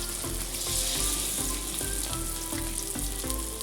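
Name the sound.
cauliflower pieces frying in hot oil for Gobi Manchurian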